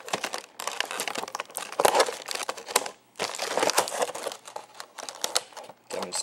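Tape and clear plastic packaging being peeled and torn off a GI Joe COBRA Legions toy box, close crinkling and ripping in uneven bursts with a few short pauses.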